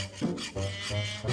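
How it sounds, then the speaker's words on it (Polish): A wooden spoon is rasped with a file or sandpaper in steady back-and-forth strokes, several close, fairly quiet passes with no voices. "Tak szlifuję"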